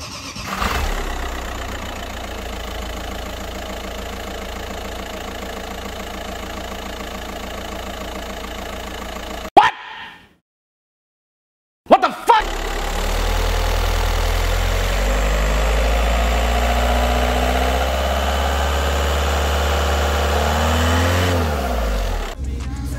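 BMW E38 V8 idling through its exhaust, a steady low rumble that cuts out briefly into near silence, then restarts with a brief catch and settles back into a loud, even idle with slight rises in revs.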